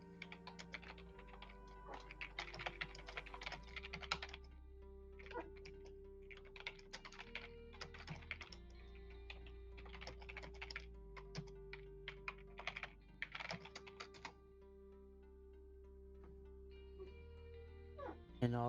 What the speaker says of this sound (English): all that speed typing